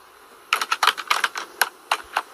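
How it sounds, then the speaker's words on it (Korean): Keyboard typing used as a sound effect for appearing text: about a dozen crisp, close key clicks in an uneven rapid rhythm, starting after a short quiet moment, with no talking over them. "글자 나타나는 거 나와서 키보드가 치잖아요"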